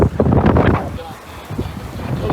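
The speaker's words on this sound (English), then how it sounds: "So the wind's blowing a pretty consistent 16 to 18 knots." Strong wind of about 16 to 18 knots buffets a boat out at sea on moderate swells, a loud steady rush roaring into the microphone, heaviest at first and easing slightly toward the end.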